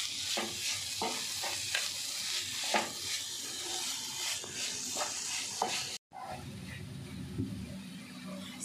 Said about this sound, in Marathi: गूळ वितळवून घेतले आपण, आता आपण त्यात खोबरं टाकूया. हे मिक्स करून घेते.